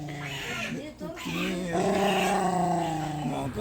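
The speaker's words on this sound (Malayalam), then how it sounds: "അവൻ്റെ മുപ്പത്തിരണ്ട് വല്ലം കാണിച്ച് കൗ കൗ കുരയ്ക്കായിരുന്നു" A dog growls, snarls and barks nearby, its rough, rumbling voice rising and falling with short yelping edges.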